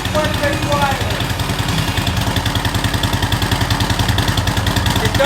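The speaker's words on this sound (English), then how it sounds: "Now I will say that the bike is quite a bit quieter." A motorcycle fitted with a FuelMoto exhaust insert idles close by, giving a steady, loud, pulsing rumble with an even chugging rhythm throughout.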